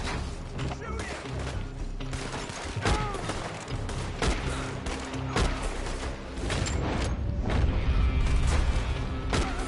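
Gunfire in the Red Dead video game, a dense fusillade of sharp cracks and booms layered under busy game audio and voices, growing louder and heavier toward the end.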